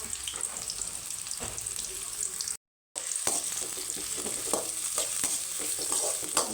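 Onion, curry leaves, ginger and garlic fry in a hot pan with a loud, steady sizzle, broken by repeated scraping stirs. The sound cuts out for a brief moment midway, then the frying continues up close without voices.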